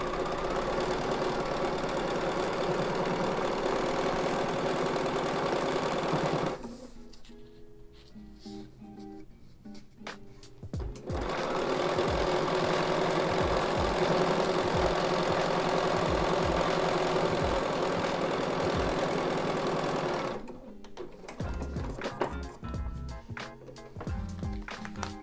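Domestic sewing machine stitching a foundation paper piecing seam on a granny square block, running in two long continuous bursts of steady motor hum with short pauses and backstitch stops between them.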